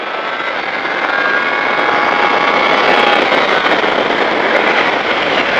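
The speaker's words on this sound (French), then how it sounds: "Allez, on accélère à fond." A motorcycle accelerates hard along the Magny-Cours circuit. A loud, steady, wind-blasted engine roar holds for the whole stretch, with no voices.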